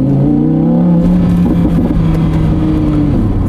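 Audi R8 Spyder V10 with 540 hp, running in S mode with the roof closed, gives a steady, loud, deep engine drone with a sustained throaty hum, heard from inside the cabin with no talking.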